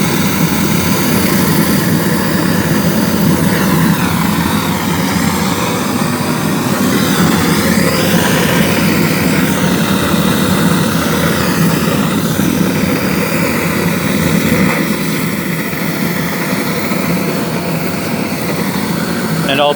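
An oil-fired aluminium melting furnace burner starts up with its oil and air supply, giving a loud, steady, continuous roaring blast that stays close and unbroken throughout.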